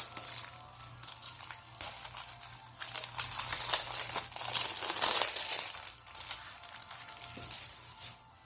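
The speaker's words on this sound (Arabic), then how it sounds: "نفتح اللعبة نشوف." Plastic shrink-wrap being peeled and crinkled off a boxed Ys 9 Monstrum Nox Pact Edition game, with steady close-up crackling and tearing that lasts throughout.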